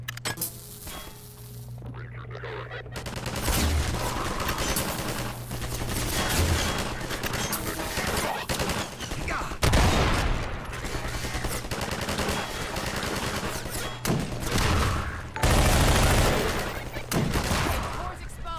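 Rapid SMG gunfire from a Half-Life 2 mod, loud bursts and sustained automatic fire with repeated strong peaks, crowded with game effects and a voice talking over it.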